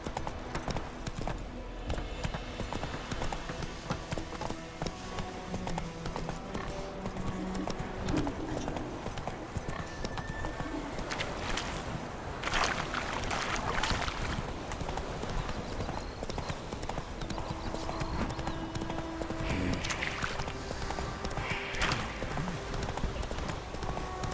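A horse in The Witcher 3 video game trots steadily with continuous, rhythmic clip-clopping hooves, joined by game ambience and occasional faint voices in the background.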